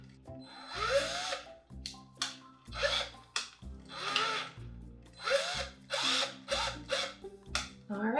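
A power drill runs in a rapid series of short bursts, tightening wire through its chuck while building a chicken wire room divider; each whir rises and cuts off in a steady, close rhythm.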